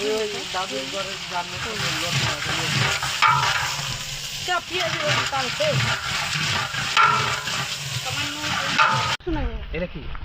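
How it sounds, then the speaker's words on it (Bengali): Khichuri stirred in a frying pan with a little coriander powder just added, a steady sizzle with scraping strokes running throughout, while a voice talks over it. "এখন ধনিয়ার গুঁড়া দিয়ে দিব সামান্য পরিমাণ, আর আমি লাড়া দিব"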